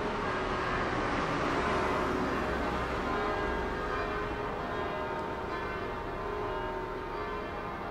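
Church bells swinging and ringing, a steady wash of overlapping tolls heard from some distance, fairly faint and continuous with no voices.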